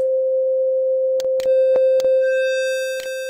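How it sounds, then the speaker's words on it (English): A pure sine wave holds a single steady mid-pitched tone with no harmonics, constant and loud, broken by a few brief clicks and faint overtones near the end. "a pure sine wave is a signal that isn't enriched with harmonics"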